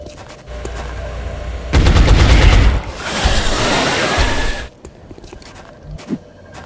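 Gunfire erupts in the tactical game XCOM Enemy Within during an abduction mission: a dense, loud burst of rapid automatic shots, then a sustained crackling barrage, before a few scattered thuds.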